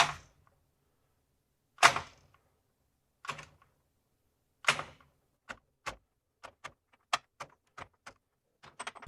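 Milwaukee M12 FUEL extended reach ratchet in reverse works at a large nut, giving a series of sharp, separate clicks and knocks that start sparse and come faster toward the end, close and dry in a quiet room.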